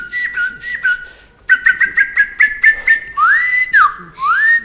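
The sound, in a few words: person whistling imitating bird calls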